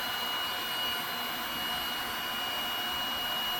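Heat gun blowing hot air at a fire alarm heat detector during an elevator recall test, a steady close roaring whoosh with a faint high whine, continuous and without speech.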